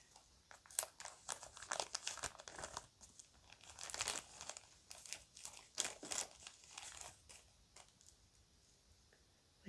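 A plastic bag crinkling as it is handled at a table holding jewelry pieces, soft close rustles in irregular bursts.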